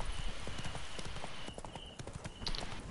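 Roach, the horse in The Witcher 3, gallops in a fast, rolling clip-clop of hooves, steady and close, with a faint voice briefly underneath.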